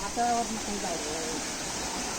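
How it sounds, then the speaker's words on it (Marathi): Steady rushing water fills the background throughout, a continuous broadband wash of water spilling down from a bund onto rock, with a voice briefly heard over it. "बांधातनाच पाणी अकडे येता खाली"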